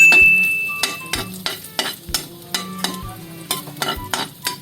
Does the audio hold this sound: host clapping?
no